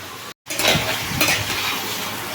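Cauliflower and potatoes sauté in a pan, giving a close, continuous sizzle broken by scraping stirs after a brief silent gap.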